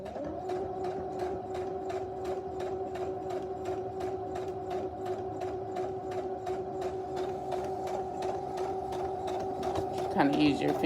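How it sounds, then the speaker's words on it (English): A sewing machine stitching a fabric face mask along a quarter-inch seam, a fast even needle rhythm running steadily and close, with a faint thump near the end. "we're just gonna continue to sew at 1/4 inch all the way till we get to the other side"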